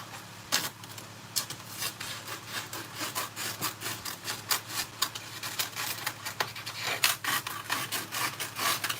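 Scissors or a blade cutting material along drawn lines while assembling a gift basket, a close, steady run of scratchy rasping strokes heard alone at low volume.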